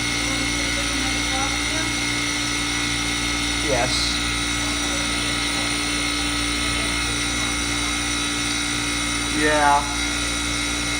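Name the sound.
Manitowoc ice machine running loudly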